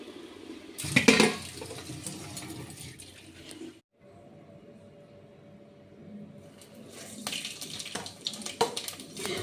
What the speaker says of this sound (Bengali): আমটাকে যাচ্ছি ধোবো ধোবো মানে একটু জলে ডুবিয়ে রাখবো